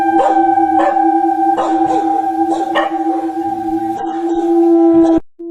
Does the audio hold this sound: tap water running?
no